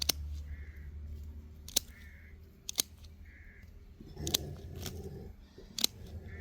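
Pruning shears cut lavender branches short with about six crisp, close snips spaced irregularly, while crows caw faintly in the background.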